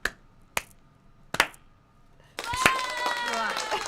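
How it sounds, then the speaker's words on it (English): Three slow, widely spaced hand claps ring out sharply in a quiet room during a talk show, followed by a denser wash of voices and tonal sound. "Slow claps"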